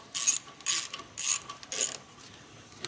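Ratchet clicking as it turns the tensioner to slacken the power steering belt on a fourth-generation Nissan Maxima, four close, crisp bursts of rapid clicks, then quiet.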